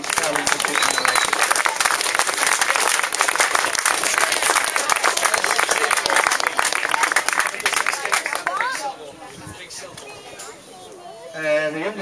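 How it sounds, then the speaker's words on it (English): Audience at a junior football club presentation day gives a sustained round of loud, dense clapping that runs for about nine seconds, then stops abruptly, leaving quieter room noise and someone talking. "just have a round of applause for the runner-up"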